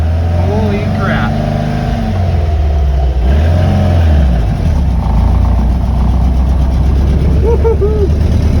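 A 1967 Volkswagen Fastback driving around the block, its engine droning loud and close with rising and falling revs as it accelerates and shifts, heard from inside the car with a voice exclaiming over it.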